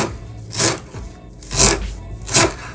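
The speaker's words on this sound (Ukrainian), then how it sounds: "Нам потрібно буде нарізати кріп понесенько." Knife chopping fresh dill finely on a cutting board in a home kitchen, three distinct bursts of quick close cuts separated by short pauses.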